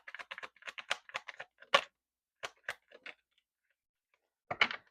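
Tarot cards being drawn and handled, heard as quick, close, dry flicks and soft slaps in clustered bursts with short quiet pauses between them.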